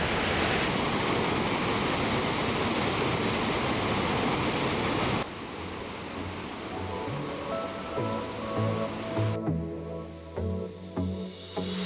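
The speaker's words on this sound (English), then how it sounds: "Right behind us is a cute little waterfall." A small waterfall in Ihlara Valley, Cappadocia gives off a loud, steady rush of falling water heard up close, which drops back partway through as other noises and a tonal background come in.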